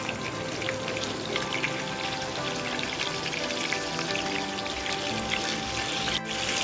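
Mutton cheese burger patties fry in a pan with a steady, dense sizzle that runs unbroken from start to finish, close and fairly loud, with no voices.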